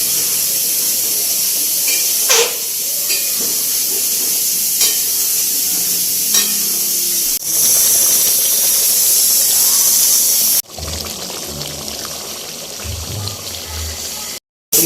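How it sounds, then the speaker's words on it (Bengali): An egg being stirred and sautéed uncovered in a pan while dahi mutton is cooked, with potatoes; steady sizzling hiss with occasional scraping and stirring clicks, fairly loud, with a brief quieter stretch near the end. "ডিমটা এইভাবেই কষাবো এখন আর ঢাকা দেবো না"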